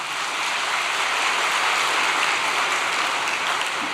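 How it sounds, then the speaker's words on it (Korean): Dense, continuous applause from a congregation at an overnight church devotion gathering, a loud even wash of clapping with no breaks and no voices. "다시 한번 박수 한번 보내주시기 바랍니다."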